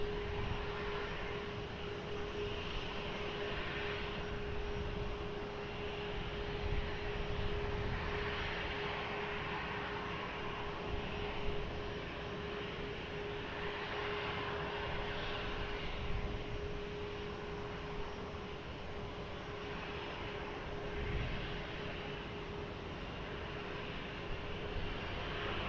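An airliner taking off from runway 20 at Lisbon Airport, a distant, faint but steady engine roar rising and falling slightly over the whole span, with a constant tonal hum underneath and no voices.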